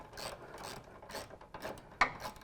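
A ratchet wrench clicks in short rhythmic bursts while tightening the mounting bolts of ICI Magnum RT side steps on a 2015 Jeep JK, heard up close with no voices.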